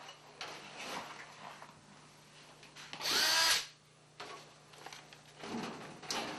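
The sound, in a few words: screw gun driving screws through an air cleaner S drive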